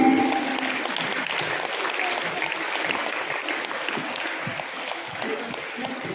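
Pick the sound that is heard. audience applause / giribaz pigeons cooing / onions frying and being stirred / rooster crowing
audience applause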